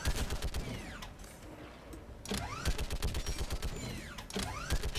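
Rapid bursts of sci-fi gunfire in the video game Mass Effect 3, repeated volleys of sharp shots with mechanical whirs between them, loud and close, with a brief lull in the middle.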